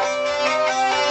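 Hurdy-gurdy with drone, melody and rhythm strings all sounding together in a dense, buzzing, sustained tone, loud and close for about a second.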